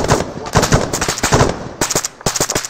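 Rapid bursts of automatic rifle fire from a military firefight in ArmA3, loud and close, rattling in quick repeated volleys with short gaps, while a voice speaks faintly underneath.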